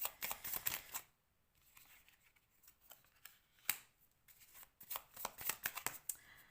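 Tarot cards are shuffled in quick riffling bursts, soft and close, with a quieter pause in the middle before the shuffling resumes.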